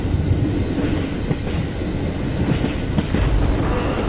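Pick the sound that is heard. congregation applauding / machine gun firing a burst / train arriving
train arriving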